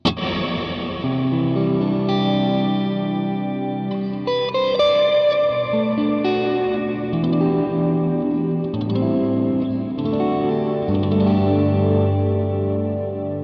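Sustained electric guitar chords through a Black Country Customs Secret Path reverb pedal set dark, ringing out with lush, washy reverb and a slight chorus shimmer, notes blooming and trailing into one another, loud and alone.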